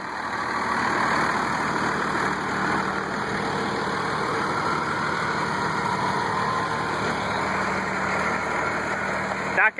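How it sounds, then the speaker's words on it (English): A 1990 Dodge turbo diesel engine idles in a steady, loud, close rumble with an even running note throughout, ending in a brief knock. "here we have the 1990 Dodge Diesel"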